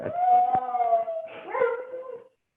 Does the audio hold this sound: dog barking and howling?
yes